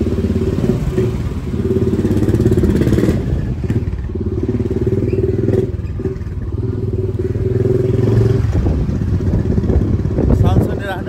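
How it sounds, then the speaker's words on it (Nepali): Motorcycle engine while riding through city streets, a loud continuous close rumble with rising and falling revs and occasional clatter, a voice speaking over it. "साउन्ड सुनिराख्नु है बाइकको, रेडियो चाहिँ छैन।"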